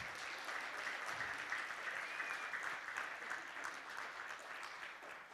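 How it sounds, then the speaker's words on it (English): Audience at the launch of a Pan African programme for eradicating peste des petits ruminants claps steadily throughout, a moderately distant, even round of applause with no speech on top. "I think they deserve a much bigger clap than that."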